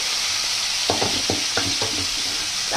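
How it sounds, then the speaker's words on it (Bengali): Slices of pointed gourd fry in oil in a pan, a constant hiss broken by a run of several quick stirring or turning clatters, close up and without talking. "আজকে ভাজা করছি দেখো পটল"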